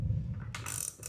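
A ratchet clicks briefly while a stick-shift car-detailing tool is tightened, giving a short burst of close mechanical clicking with a faint low hum beneath.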